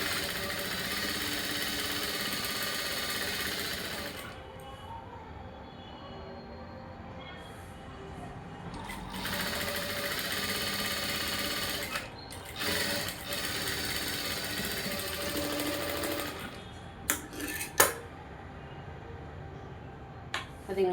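A sewing machine stitches along the edge of a blouse lining in a fast, steady whir. It runs in several long passes with short pauses and small clicks between them, close by and moderately loud.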